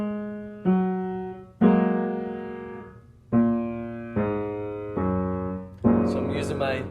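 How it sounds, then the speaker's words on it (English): A piano plays groups of the three black keys with the left hand in the low register, as single notes and then all three together. Seven separate strikes ring out close by, each left to decay, in a slow and uneven rhythm. "we're actually going to play 3 sets of the group of 3 black keys."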